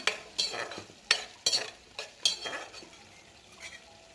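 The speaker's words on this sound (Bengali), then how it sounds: "এবার সেগুলো ভালো করে নেড়ে চেড়ে নিলাম" Spices being stirred in a hot pan with a utensil, a series of sharp scraping and clinking strokes at an uneven rhythm, close and moderately loud, fading to a quiet sizzle toward the end.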